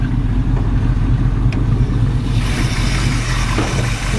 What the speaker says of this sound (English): The motor seems to run pretty good.